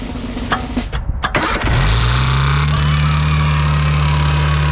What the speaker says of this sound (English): That noise you hear is the fan hitting the hose above it.